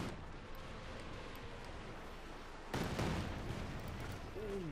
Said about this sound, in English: Got a Katyusha there unleashing hell on the German positions